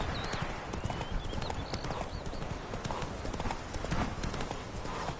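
Roach the horse galloping in The Witcher 3, a steady rapid clip-clop of hooves close up and continuous, mixed with game ambience and faint background tones.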